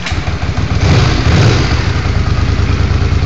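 A Honda GL500 motorcycle being built into a cafe racer, with freshly cleaned carburetors, fires up and idles loud and close, a steady throbbing rumble with a slight swell in the middle.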